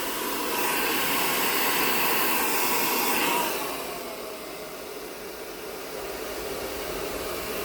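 A hair dryer blows steadily while drying long hair with a round brush, a loud whooshing stream that drops to a softer, lower airflow partway through when the cool shot button engages.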